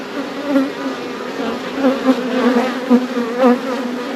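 Honey bees buzz steadily and close by while a hive is opened for inspection, their drone rising and falling in pitch with occasional louder passes near the frames.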